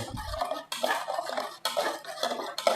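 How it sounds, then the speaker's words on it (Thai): Thai beef salad with lime, tomato, fish and dressing being stirred in a bowl, metal utensil scraping and clinking in bursts of clatter, close and fairly loud, no talk. "คนเข้ากันครับ"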